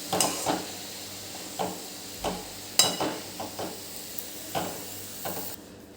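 Garlic spinach being stirred in a hot pan, with a steady low sizzle broken by about eight sharp scraping strokes of the spoon at irregular intervals, close and fairly quiet.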